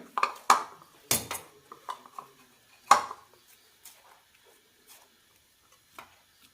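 Ragi dough being filled into a metal noolputtu noodle press, sharp metallic clinks and clatters at the start, then a few softer taps and scrapes that thin out into near quiet.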